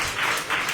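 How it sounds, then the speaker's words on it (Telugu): A church congregation claps in praise at a Sunday service, a brief steady wash of many hands, with no distinct individual claps. "దేవుని కృప కొరకు ఎటుగా చప్పట్లు కొడుతూ ప్రభుని స్తుతిద్దాం"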